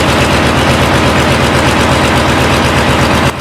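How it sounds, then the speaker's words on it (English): A 50-year-old V12 diesel engine of 450 to 1,000 bhp runs very loud and close, a rapid, pounding rumble held at constant strength throughout. "The engines sound like a lion roaring"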